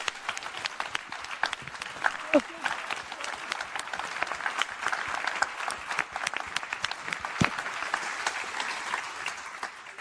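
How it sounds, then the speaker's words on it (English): Sustained applause from a large audience in Sydney Town Hall for the panellists Lee Waters, Clover Moore and Rob Stokes: dense, even clapping that carries steadily for about ten seconds with no speech over it. "Could you put your hands together for them?"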